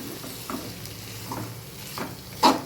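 Potato and vegetable roll filling being sautéed and stirred in a pan with salt, a soft steady sizzle with occasional scraping stirs and one louder clink near the end, no talking.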